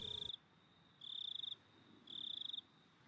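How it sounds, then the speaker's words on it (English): Cicadas in the Higurashi When They Cry video game buzz in three steady shrill bursts separated by short pauses, quiet and alone apart from a brief thump at the start. "I hear cicadas."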